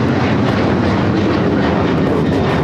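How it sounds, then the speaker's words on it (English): United Airlines Boeing 737-900ER on its takeoff run, a loud, steady broadband jet engine roar filling the whole stretch with no talking. "This is United Airlines 1635 taking off"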